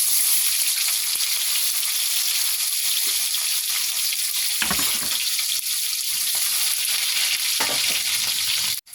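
Onions fry in a pan with a loud, continuous sizzle and hiss, broken by a few stirring knocks before stopping abruptly at the end.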